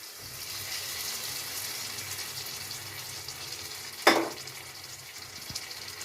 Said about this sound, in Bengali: হালকা করে ভাজা হয়ে গেছে